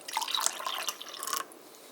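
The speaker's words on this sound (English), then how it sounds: "pour in the water." Water is poured into a cup holding orange Gatorade drink mix, giving a short, quiet splashing trickle for about a second and a half that then fades, with no talking.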